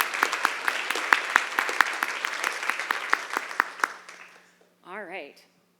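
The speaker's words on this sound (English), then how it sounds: "So she deserves a huge round of applause." A conference audience applauds with steady, dense clapping that gradually fades out, followed by a brief voice as the clapping ends.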